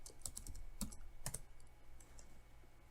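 Quiet, close computer keyboard typing comes as a few scattered, irregular key clicks over a faint background hum, with no talking.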